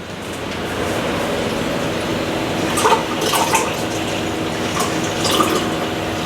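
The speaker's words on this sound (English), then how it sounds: "we're going to see how long it takes to fill this same 16-ounce cup" Water from a tankless reverse osmosis system runs steadily into a 16-ounce cup, a continuous close rushing pour with a few brighter splashy bursts as the cup fills, no voices.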